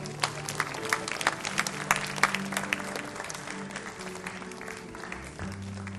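A church youth service congregation applauds as two couples are called forward, giving scattered, uneven claps with a few sharp nearby hands standing out over a murmur of low voices.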